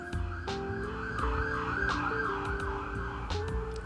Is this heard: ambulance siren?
yes